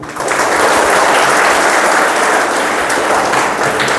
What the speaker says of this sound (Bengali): তার জন্য একটা জোরে হাততালি হোক।